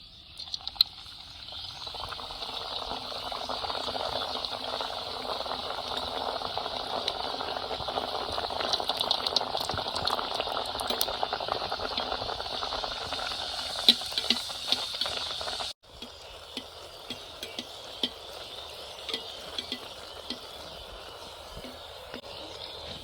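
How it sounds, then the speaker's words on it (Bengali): A spinach luchi puffs in hot oil in a kadai, giving a steady, fairly quiet bubbling sizzle for about sixteen seconds. The sizzle then drops away to a faint simmer with scattered light clicks. "এখন একটা লুচি দিয়ে দেব তেল গরম হয়ে গেছে"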